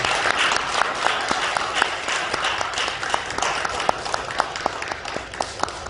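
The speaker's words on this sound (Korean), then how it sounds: "우리 환영의 박수를 한번 주시겠습니다" Applause from a church congregation welcoming a new member at a New Year celebration service, a steady wash of many hands clapping at moderate distance with scattered sharper claps throughout.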